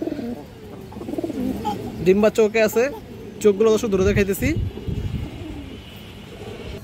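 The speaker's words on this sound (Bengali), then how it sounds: "খুবই সুন্দর কবুতর" Pigeons coo in a loft, soft low throaty calls rising and falling under someone talking close by in Bengali, with a few louder warbling bursts in the middle.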